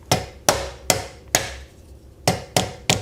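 Sharp metallic hammer blows tapping a bolt out of the steering arm on a 100-year-old Austin 7 rolling chassis, six distinct strikes at an uneven rhythm with brief ringing decays, close and loud in a quiet workshop.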